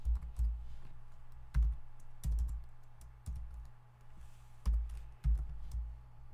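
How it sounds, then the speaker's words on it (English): Typing on a computer keyboard, close and clear, with uneven bursts of key presses and a few heavier thumps, likely the spacebar or enter key, amid brief pauses. "we are typing data"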